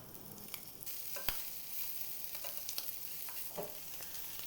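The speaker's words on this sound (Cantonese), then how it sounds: "然後就用中大火咧將佢煎熟啦" Seasoned food, dusted with pepper powder, black pepper and a little sea salt, pan-fries in olive oil over medium-high heat. A steady, close sizzle runs throughout with scattered crackles and pops, and no one speaks.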